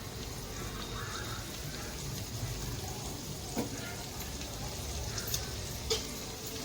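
Spices and asafoetida sizzle in hot oil for a gongura pachadi tempering, the stove switched off. A steady, fairly soft crackling hiss continues throughout with a few small pops and clinks.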